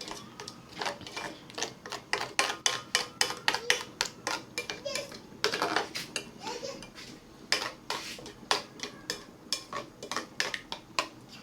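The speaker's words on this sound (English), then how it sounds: "You make sure you mix it very well with the red oil." A spoon scrapes and clinks against a pot while achi is stirred into red palm oil for egusi soup, giving rhythmic metallic knocks repeating quickly and close, with faint background voices.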